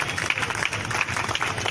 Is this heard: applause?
yes